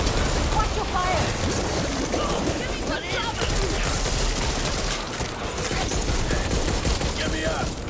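Rapid gunfire in the zombie shooter Back 4 Blood, dense continuous bursts and fusillades with game effects layered in, loud and close, with voices calling out over the shooting.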